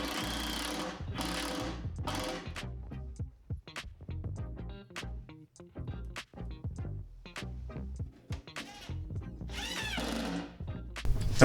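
Screws driven into plywood with a power drill, repeated short buzzing bursts close by, separated by brief pauses.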